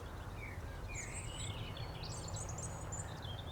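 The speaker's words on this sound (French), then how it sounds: "que cela soit le chant des oiseaux" Birds singing outdoors during a meditative walk, several high chirps and short warbling phrases scattered over a steady low rumble of nearby road traffic, fairly faint and with no talking.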